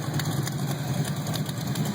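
Beefed-up Ford Mustang GT 5.0 with Flowmonster exhaust and a slight exhaust leak, idling with a low, steady, lumpy rumble and rhythmic pulses, heard close and fairly quiet without speech.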